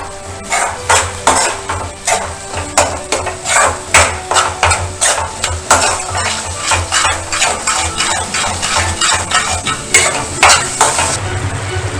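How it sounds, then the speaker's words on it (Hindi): Spices are stirred in a pan for palak paneer, with loud, steady, rhythmic spoon scraping and tapping against the pan over a light sizzle, close up and continuous, with no talking. "और इन सारे मसालों को अच्छे से मिक्स कर लूंगी"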